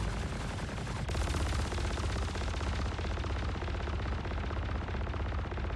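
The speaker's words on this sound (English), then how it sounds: "Let it charge all the way up in between shots." Charged energy-weapon shots fire in a mining video game, a dense, loud barrage of rapid blasts that runs continuously, with a sharp burst about a second in, and no talking over it.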